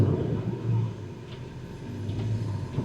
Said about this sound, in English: It's actually like a little scooter coming